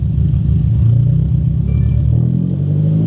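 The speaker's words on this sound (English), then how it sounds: "So right now it's misfiring." A car engine runs and misfires at low RPM with a deep, continuous rumble. Faint uneven clatter rides on the steady drone, and the sound is close and fairly loud throughout.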